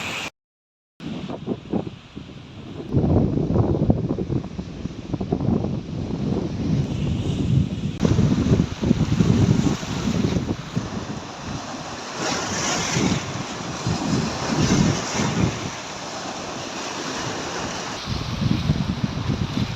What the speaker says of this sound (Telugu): ఆ వాటర్ ఇక్కడ పైకి ఎగురుతుంది వాటర్. చూడండి ఎలా వస్తుంది వాటర్.